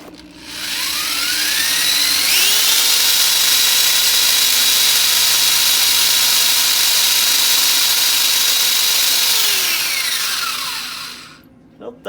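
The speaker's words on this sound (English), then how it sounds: "Now this drill runs right about 1500 RPM" An electric drill running at about 1500 RPM spins an iSta Breeze i500 wind turbine on a bench, a loud steady high whine rising as it spins up, holding for several seconds, then winding down near the end, with no talking.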